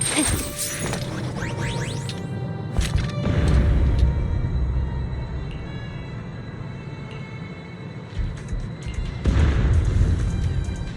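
Deep booms and crashing bursts from the video game Zenless Zone Zero roll through at the start, around three seconds and again near the end, each followed by a sweeping rumble and ringing tail.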